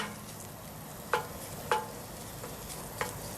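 Ground pork browns in a pan on a weak off-grid burner, a soft steady sizzle with a few quick scraping taps of a utensil breaking up the meat, close and fairly quiet, no voices.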